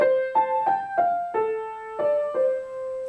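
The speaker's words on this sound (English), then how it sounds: "in those first 4 bars you have 1 phrase in the right hand which sounds like this" Six or seven soft single piano notes trace a gentle right-hand melodic phrase from The Harebell, a beginner piece, each note struck clearly and left to ring, played alone at a calm pace.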